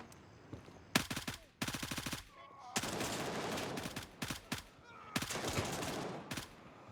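Automatic gunfire in the Gray Zone Warfare shooter, several sharp bursts of rapid shots separated by short pauses, loud and close, with faint background noise between bursts.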